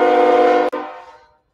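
A train horn blares in a loud, steady harmonic tone that is cut short abruptly once, then returns and fades away over roughly a second.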